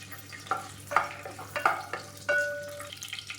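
Whole spices such as cardamom and clove frying in hot oil for biryani, a low steady sizzle broken by several sharp stirring scrapes of a spoon against the pan, close and alone.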